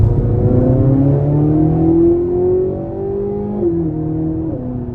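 Engine of a 2024 Chevrolet Corvette Z06 convertible accelerating through the gears, a loud, steady exhaust note that climbs in pitch, drops at a shift and climbs again, with no talking.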